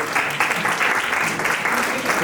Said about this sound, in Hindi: और तालियां हमारे बच्चों के लिए।